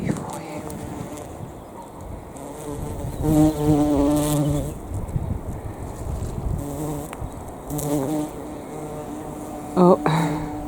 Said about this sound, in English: there's a bee at work somewhere. Can you hear it?